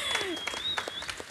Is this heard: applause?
yes